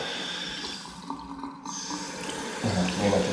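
Tap water runs into a sink in a changing room, a steady broadband splashing stream that grows louder and heavier near the end, with no speech over it.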